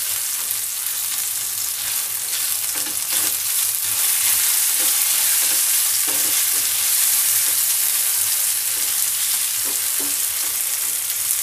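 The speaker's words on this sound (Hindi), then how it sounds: "इसको हम फ्राई कर लेंगे।" Taro (arbi) fries in a pan with a steady, loud broadband sizzle throughout, punctuated by occasional soft stirring clicks and scrapes; no voices.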